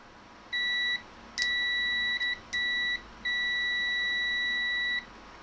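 A Klein Tools MM400 multimeter in continuity mode beeps as its leads touch: four steady electronic tones of differing lengths, separated by short gaps, with one doubled chirp, fairly close and alone over faint room hiss.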